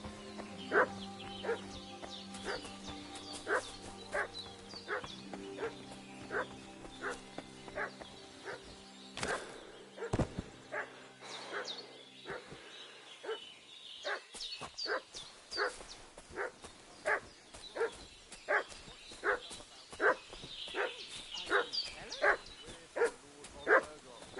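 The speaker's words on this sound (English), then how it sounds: "What's that dog making such a fuss about?" A dog in the medieval video game Kingdom Come: Deliverance II barks repeatedly in sharp, evenly spaced yaps, some farther off and some nearer, over faint ambient game sound with no talking.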